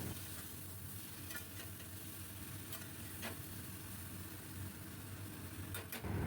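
Green chili paste and ginger paste being stirred in a pan, a steady low sizzle with a few soft scraping strokes of the spoon, close and fairly quiet.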